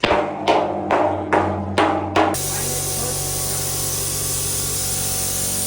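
A power tool cuts through a rusty metal bracket on a DIY offset smoker build, starting with five short rhythmic rasping strokes that end in a sustained loud, even grinding whine, all close to the microphone.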